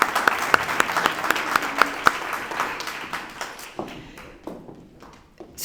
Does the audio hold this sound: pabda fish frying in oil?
no